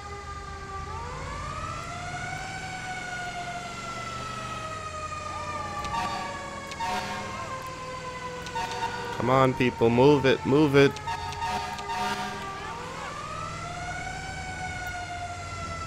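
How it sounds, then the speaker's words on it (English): A wailing Federal Q fire truck siren in GTA 5, fitted on a GMC Topkick C450 ambulance, rises and falls repeatedly, loud and continuous, while someone shouts briefly over it midway. "we might as well use a big siren."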